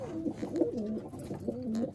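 Madras pigeons coo in a steady run of rolling, wavering calls, close and fairly loud, with no talk over them.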